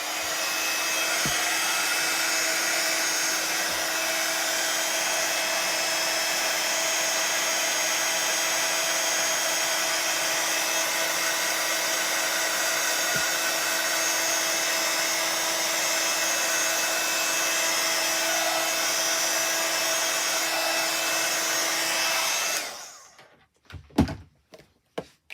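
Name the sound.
hair dryer drying a wet-stamped card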